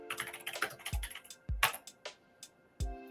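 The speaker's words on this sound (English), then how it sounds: "So I'm just going to run that directly from the command line." Typing a command on a computer keyboard, a quiet run of close, irregular key clicks broken by a few heavier thumps, with no talking.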